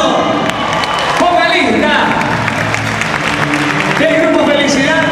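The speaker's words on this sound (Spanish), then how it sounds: "para quien pido un fuerte aplauso, por favor" An audience applauds at an outdoor band concert in Palmará, steady clapping and crowd noise sustained throughout while an announcer speaks over it through a loud PA.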